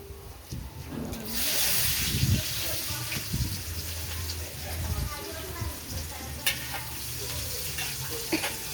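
Garlic and onion fry in a pan with a soft, continuous sizzle and occasional stirring clatter, while someone talks over the cooking.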